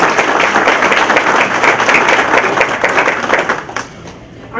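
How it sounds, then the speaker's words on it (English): Audience applause for community services staff at a county employee recognition breakfast, a dense, steady round of clapping from a crowd that tapers off near the end. "I would just like to give a round of applause for all the staff of community"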